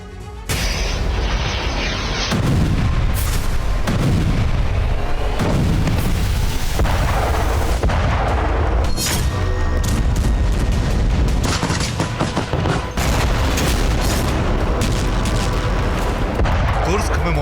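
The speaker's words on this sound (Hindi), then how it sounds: "मौजूद यूक्रेन सेना पर रूस का प्रचंड प्रहार शुरू हो चुका है" Heavy artillery fire and explosions from a Russian attack on Ukrainian forces: dense, continuous booms and blasts, loud and sustained, with overlapping impacts throughout.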